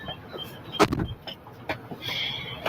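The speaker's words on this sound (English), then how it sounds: "So I'm going to roll his window down." A car's electric power window rolling down, a low motor whine with a muffled thump near the start, heard close inside the vehicle with faint background noise.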